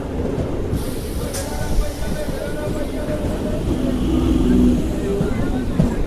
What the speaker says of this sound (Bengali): আর এই যে একটা ট্রেন এসছে